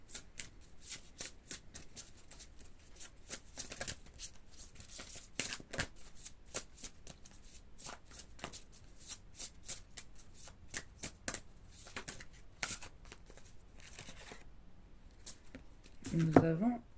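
Tarot cards being shuffled and drawn by hand, a long run of quick papery riffles and soft card snaps at close range, fairly quiet, ending with a brief louder handling noise.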